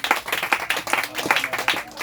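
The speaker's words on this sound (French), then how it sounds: "Acclamons le Seigneur Jésus-Christ." A church congregation claps and applauds together, dense rhythmic hand claps close by with a roomy sound, over about two seconds.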